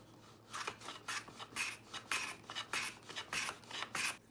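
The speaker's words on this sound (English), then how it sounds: "And then I chamfer the edge as it will go into a groove." A hand plane chamfers the edge of a wooden board for a box in a run of about eight rhythmic rasping strokes, each a short airy shave with a brief gap between, close and clear.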